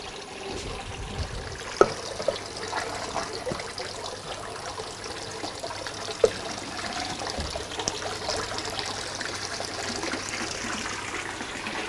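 An aquaponics tank siphon overflows and flushes water down to a drain, a steady close trickling and gushing flow with a few small knocks and no talk.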